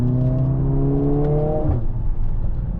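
A 2025 Mercedes-AMG A45S facelift hot hatch engine climbs loudly in pitch under acceleration, then lifts off with a rougher burble where exhaust pops break through, heard close from inside the car.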